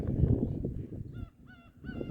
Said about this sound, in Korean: 갈매기 소리. 끼룩끼룩.